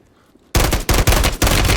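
Loud bursts of automatic gunfire in Warzone erupt after a short quiet lead-in, coming in three or four close, heavy volleys that carry through to the end.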